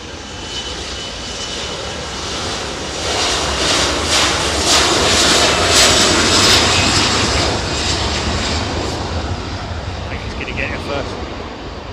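An Airbus A300 freighter jet takes off at night at East Midlands Airport, its engines a loud, steady broadband roar that swells toward the middle and then eases slightly as it climbs away.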